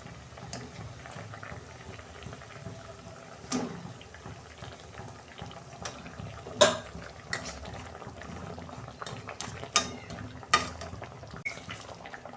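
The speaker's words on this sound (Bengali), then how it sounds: "এই যে মশলাটা ফুটে গেছে, আমি মাছগুলো দিয়ে দিচ্ছি।" Tilapia fish simmering in a spiced masala gravy in a pan, with a steady low bubbling and occasional sharper clinks and spatters from the pot, heard alone without talk.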